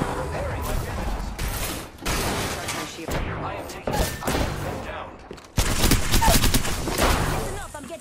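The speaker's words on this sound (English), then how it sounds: "Listen up, I'm getting shot at." Rapid bursts of gunfire in the battle royale shooter Apex Legends, dense volleys overlapping with mechanical clicks and impacts, loud and continuous with brief breaks, under game sounds and occasional voices.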